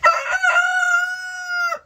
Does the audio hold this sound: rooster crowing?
yes